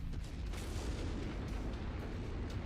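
Explosions boom in a video game, a dense low rumbling barrage of blasts and bursts that rolls on continuously at moderate loudness.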